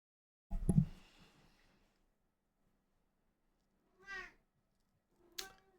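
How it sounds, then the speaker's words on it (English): An upset cat meows three times, with a loud thumping yowl first, then a clear mid-length meow and a short sharp cry, each separated by silence and heard close by. "my cat is very upset"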